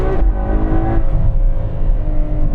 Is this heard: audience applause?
no